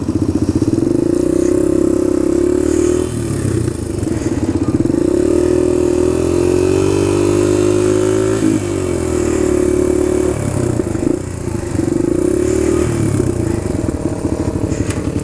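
A Suzuki DR-200 motorcycle engine runs steadily and loudly close by, its low throbbing note rising and falling with throttle changes and short revs, and no talk over it.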